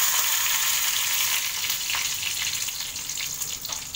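Curry leaves sizzle and crackle in hot oil with mustard seeds and cumin, a loud steady hiss with scattered pops throughout, no voices.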